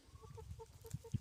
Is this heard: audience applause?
no